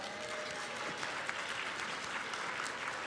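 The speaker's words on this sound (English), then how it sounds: "Let's give Molson Coors a big round of applause." Quiet, distant applause from an audience at an MLK 2024 program, honoring sponsor Molson Coors, a soft, steady patter of clapping.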